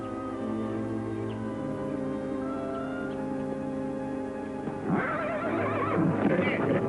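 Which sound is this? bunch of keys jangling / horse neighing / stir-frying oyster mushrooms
horse neighing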